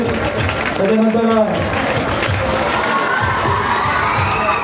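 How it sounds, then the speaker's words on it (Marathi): A crowd of school students at an event cheering and shouting loudly, a dense, continuous roar of young voices with possible clapping mixed in, while a speaker talks over it. "जोरदार टाळ्या वाजवायच्या विद्यार्थ्यांसाठी."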